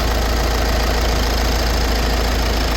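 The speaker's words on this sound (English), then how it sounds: "I just got to run it at high idle" A 2014 Volkswagen Passat TDI diesel engine runs at high idle after a valve cover gasket replacement, giving a steady, loud, continuous clatter and hum with no breaks and no voices.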